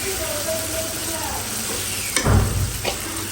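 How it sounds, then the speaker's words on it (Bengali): Tomatoes sautéing in a pan until soft, a steady sizzle with a burst of stirring and scraping in the latter half, close and moderately loud, with no talking. "এখানে হলো আমি কষাইতেছি এটা যাতে একটু নরম হয়ে যায়"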